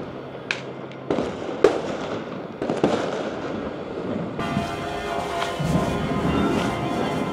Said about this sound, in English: now the fireworks have started here